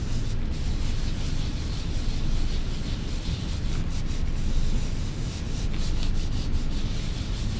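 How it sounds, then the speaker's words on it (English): Paper being rubbed by hand onto an inked printmaking block, a continuous close, loud scratchy rubbing that swells and fades in steady strokes, with no voices. "When in doubt, rub longer. It's always better to rub longer than too short."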